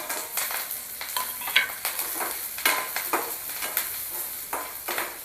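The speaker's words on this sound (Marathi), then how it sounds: "हे चांगलं परतून घेऊया 1-2 मिनटं" Garlic, onion, chillies and curry leaves fry in hot oil over a low gas flame for a dahi tadka, giving a steady close sizzle broken by repeated scraping stirs, with no voices.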